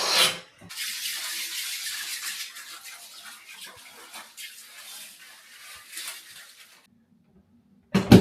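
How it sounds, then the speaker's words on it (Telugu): Hot water pouring into a hotel bathtub in an Osaka suite, a steady rushing flow that fades out and stops, with a brief clatter at the very end. "హైయెస్ట్ టెంపరేచర్ 42 డిగ్రీస్ హీట్ పెట్టి నేను వాటర్ మొత్తం నింపేసాననమాట"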